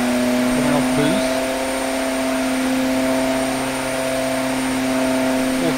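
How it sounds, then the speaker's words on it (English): A 1,500-horsepower turbocharged engine drones steadily with a sustained humming whine, its pitch dipping slightly near the start before holding constant. "it's a very slow revving engine to bring up power"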